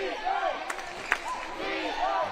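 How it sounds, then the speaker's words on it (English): Crowd noise swells at a WNBL women's basketball game between the Southside Flyers and Bendigo Spirit, a steady broad roar of cheering with a sharp court thud partway through and voices mixed in. "Crowd finding their voice."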